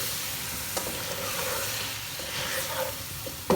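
Chicken pieces sizzling in a pan with mashed onions for an aloo chicken curry, a steady close hiss of frying with soft scraping stirs scattered throughout and a sharper clack near the end.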